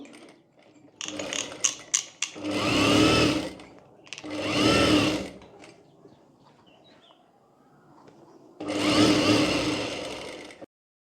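A sewing machine stitches cotton fabric over canvas at a blouse neck, running in three distinct loud mechanical bursts of rapid whirring with short pauses and clicks between them.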